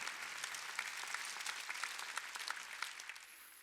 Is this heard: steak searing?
no